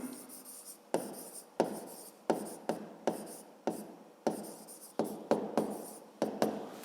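A pen writes out a fifth-grade math solution on paper, in a series of quiet, distinct scratchy strokes and taps spaced unevenly, recorded close up with no talk.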